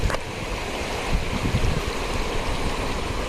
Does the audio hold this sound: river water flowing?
yes